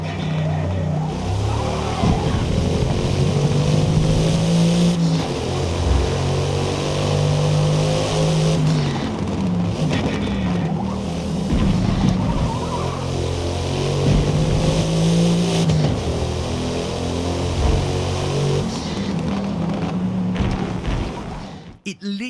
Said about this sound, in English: the sound, more specifically the blow-off valve